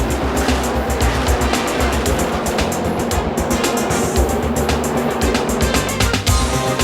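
Race cars at the Indianapolis Motor Speedway during the 1994 Brickyard 400 roar continuously, with loud engines and rapid pulsing passes blending into a constant, dense racing din.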